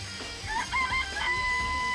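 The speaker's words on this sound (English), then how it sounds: "I remember there were some chickens in the chicken coop." Chickens in a coop inside the Danganronpa video game, a few bird calls and crowing-like tones rising over a steady game background hum, fairly close and moderately loud with no talk.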